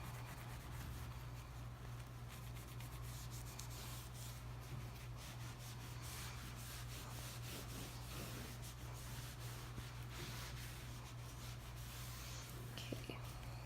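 Cloth rubbing and buffing dark wax into wooden furniture, a steady soft scrubbing that runs continuously and close over a low constant hum.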